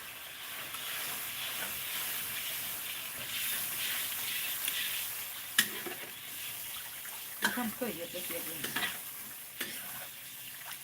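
Noodles frying in hot oil, a steady hissing sizzle running throughout, close and moderate, with a few utensil clinks and a short burst of talking partway through.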